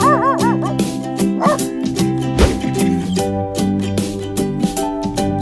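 Several dogs barking, yipping and whining at once at an animal shelter, overlapping in a loud, busy chorus nearby.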